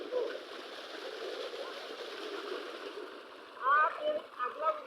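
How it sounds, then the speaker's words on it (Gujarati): Irrigation water running through a wheat field, a soft steady trickling flow with a few brief gurgling splashes near the end, fairly faint and close. "આ પાણી બહુ આજે ચાલે છે"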